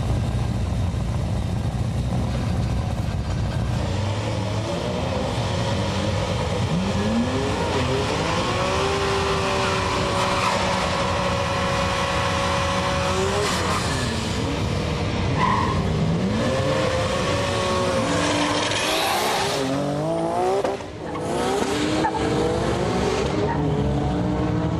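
Toyota Sora with a Supra-based 2JZ twin-turbo engine at a street drag event at T.I. Circuit, loud revving and accelerating engine with tire squeal and skidding, rising and falling engine pitch over a constant roar.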